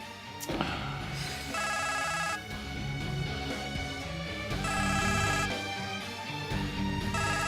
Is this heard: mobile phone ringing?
yes